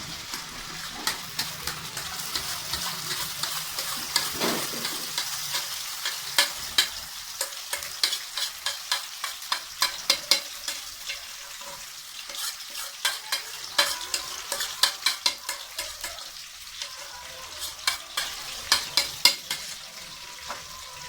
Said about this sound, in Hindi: तो फिर हम इसमें जो है ना वो ये देखें लहसुन अदरक का जो पेस्ट है वो ऐड करें।